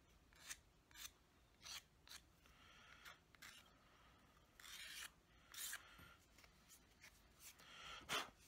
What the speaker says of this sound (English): Now I'm going to take a single edge razor and just scrape it to get the burr off.